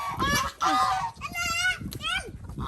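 Farm birds, ducks and chickens, call near the microphone in a rural Thai setting, with a string of loud honking and squawking cries coming in short bursts, while a person speaks intermittently in the background.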